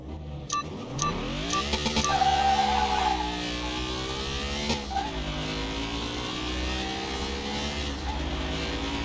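A car in a Car Mechanic Simulator 21 drag race against a Porsche revs hard. The engine climbs in pitch through quick gear shifts, then drones steadily at high revs, loud and close with no talk.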